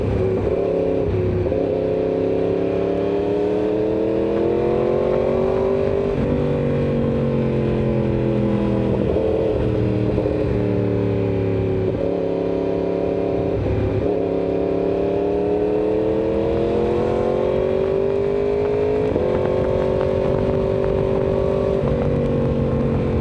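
Yamaha R1 sport motorcycle engine revving in a steady, loud drone with rising and falling pitch sweeps, close by and continuous, with no talking.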